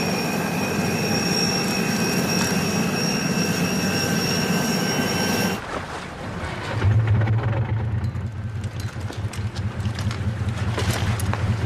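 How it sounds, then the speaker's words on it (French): A rescue helicopter drones loudly and steadily overhead during a sea rescue in a French TV drama. The tone of its engine changes abruptly partway through, then the heavy rumble carries on. "l'hélico est déjà sur zone."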